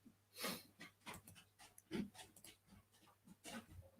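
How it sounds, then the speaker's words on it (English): A returning dog pants close by in quick, irregular breaths with a few snorts, fairly faint against quiet outdoor background. "Here comes the dog back."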